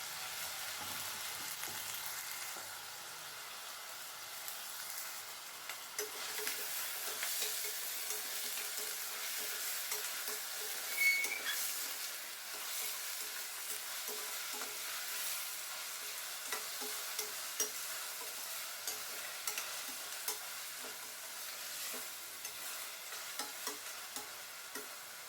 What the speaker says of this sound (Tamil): முள்ளங்கியை வந்து நல்லா வதக்கி விடுங்க